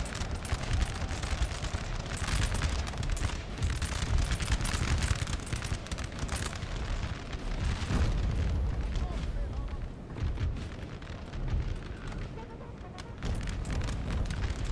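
Artillery fire and explosions in the Napoleon: Total War battle game, a dense, continuous rumble of cannon booms and musketry crackle, steady and loud throughout, with talk over it.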